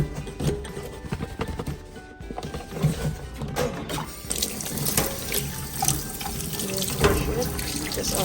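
A tap runs steadily outdoors while a container used for organic manure fertiliser is rinsed, with water splashing and gurgling continuously.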